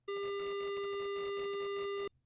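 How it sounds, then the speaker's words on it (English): A synthesized square wave plays as one steady, buzzy, harsh electronic tone for about two seconds, loud and alone, then cuts off abruptly. "Let's try a square wave."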